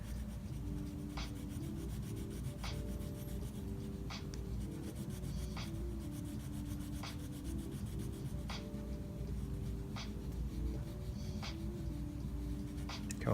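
Crayon or pencil colouring on paper with steady side-to-side strokes, a soft continuous scratchy rubbing marked by brief regular taps at each turn, close and quiet with no talking.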